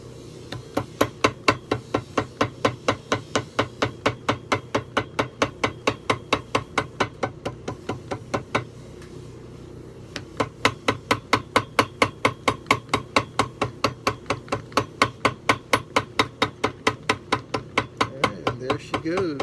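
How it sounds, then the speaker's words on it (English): A small hammer taps leather binding on a vintage Shell Hanover in a fast, even stream of crisp knocks, briefly pausing partway through before resuming, close and clear with no talk. "We're going to do mini hammering."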